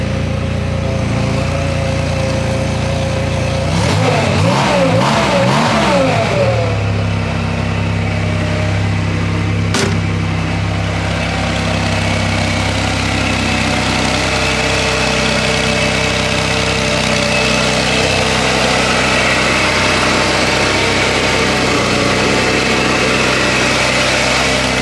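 A rebuilt 1964 Chevrolet Corvair Monza engine idles smoothly and loudly up close. It briefly revs with a rising and falling pitch a few seconds in, then settles back to a steady, even idle.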